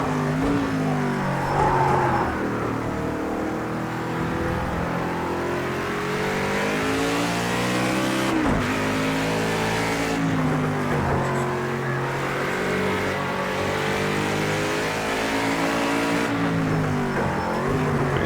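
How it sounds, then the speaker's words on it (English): A Chevrolet race car engine in the video game Project CARS 2 revs repeatedly, pitch climbing and dropping through gear shifts, loud and close, with brief lifts between pulls. "I like the sound of this Chevrolet"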